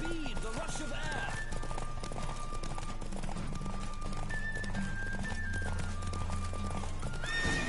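Roach, a horse in The Witcher 3 video game, gallops in a race with steady hoofbeats and an occasional whinny, over a dense layer of game music and ambience. A voice talks intermittently over it.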